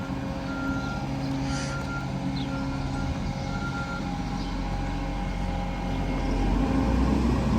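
A semi truck arriving at a farm, its engine rumbling steadily nearby while a faint reversing beep repeats in the background.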